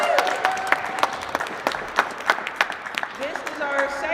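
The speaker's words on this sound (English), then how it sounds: "Can I get a round of applause?" An audience at a live Black History Month Jeopardy event applauds with scattered, uneven claps that swell and fade over a few seconds, while voices carry on over the clapping.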